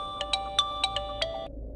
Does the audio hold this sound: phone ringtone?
yes